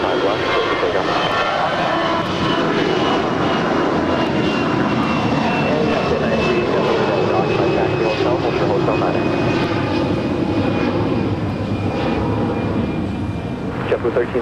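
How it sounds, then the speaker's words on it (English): A Korean Air heavy jet takes off at LAX with a loud, continuous roar of jet engines that holds steady and close throughout, a faint whine riding above the rumble. "Korean 280 heavy, wind 180 at 6 on half, 125 left, clear to take off."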